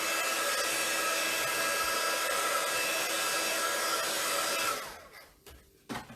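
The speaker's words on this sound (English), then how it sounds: "So we'll just quickly dry that." A hair dryer blows steadily and loudly over a gel plate print for nearly five seconds, then cuts off, leaving a few faint handling knocks.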